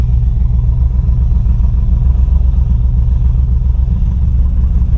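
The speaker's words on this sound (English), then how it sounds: "my RPMs get super low at idle" A cammed Camaro idles at a very low RPM, around 500. It gives a loud, steady, deep rumble that stays close and even for the whole stretch, with no talking.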